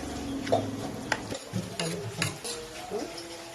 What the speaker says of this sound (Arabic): هنقلب بقى الحاجه دي كلها